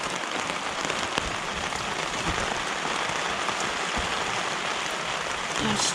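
Steady heavy rain patters densely and continuously on a Hilleberg solo tent close by, heard from inside, a constant wash of drops with no voices.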